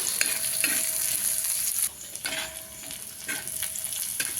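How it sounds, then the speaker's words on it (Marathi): Onion sizzles in a hot iron pan while a utensil stirs and scrapes in bursts; the frying dips briefly midway, then picks back up. "आपण कांदा लाल होईपर्यंत असं परतून घ्यायचं"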